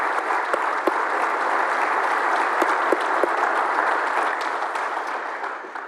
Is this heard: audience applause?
yes